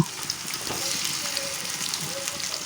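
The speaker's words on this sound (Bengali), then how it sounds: "তেলটা গরম হয়ে আসছে, আস্তে আস্তে দিয়ে দিচ্ছি মাখিয়ে রাখা মাছগুলো" Marinated rohu fish pieces sizzling in hot mustard oil in a kadai, a continuous crackling fry with small pops and the faint clink of a utensil.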